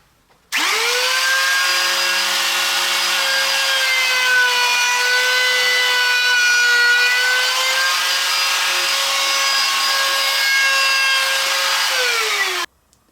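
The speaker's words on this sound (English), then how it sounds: "we're going to give a 1/4 inch round over all around the top edge" Router cutting a 1/4 inch round-over along the top edge of a wooden charging stand, a steady high whine with sustained tonal harmonics running for about twelve seconds, close and loud, starting and stopping abruptly.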